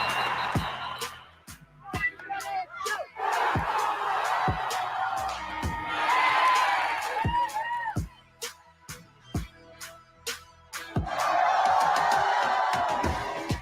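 A crowd cheers and whoops in loud, overlapping bursts with sharp claps and shouts, swelling and dropping before surging again near the end.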